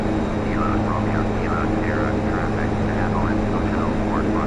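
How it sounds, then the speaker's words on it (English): A DHC-6 Twin Otter's propeller engines drone steadily in the FSX flight simulator, a loud continuous hum with a layered low rumble, while someone talks over it during a night flight. "This plane is one of those that's really loud."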